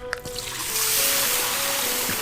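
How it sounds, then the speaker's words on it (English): Water splashing onto a fire in an Unreal Engine game makes a soft, steady hiss that swells after a faint opening click and carries on alone for about two seconds. "it makes a little singe sound."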